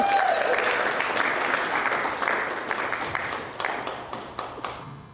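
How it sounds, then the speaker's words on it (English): Audience applause for a guest at an interview event, a full burst of clapping that starts loud and gradually thins out into a few separate claps as it fades. "Let's give a big round of applause for our guest, Ford Blakely."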